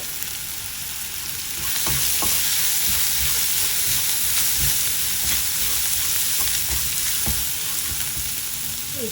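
Sizzling oil in a pan as turmeric is added and stirred, a continuous bright frying hiss with intermittent scraping clicks of a spatula, close and steady.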